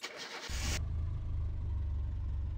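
A rear-wheel-drive old car in My Summer Car cranks and catches; a deep engine rumble starts abruptly and settles into a steady, loud idle with no voices.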